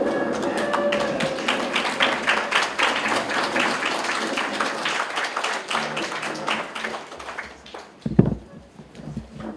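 An audience at a formal public enterprise presentation applauding the Governor of Kavango East, a dense steady clapping that thins and fades out, ending with a couple of louder thumps near the end.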